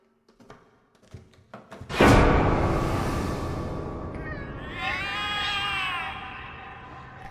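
Cats meow in alarm in The Cat Lady video game, with a sudden loud thud-like onset, then sustained, wavering, insistent yowls over a rumbling background, with scattered taps before the onset.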